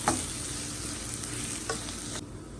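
Chilli powder and turmeric roasting in oil in a pan for a crab coconut-milk curry, a close continuous sizzle with a couple of spoon scrapes before it drops away at the end.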